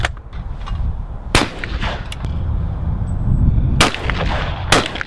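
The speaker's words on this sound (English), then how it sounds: "It shoots alright, it shoots like a 12 bore." 12 bore shotgun fired outdoors, several sharp loud blasts spaced a second or more apart over a continuous rumbling background.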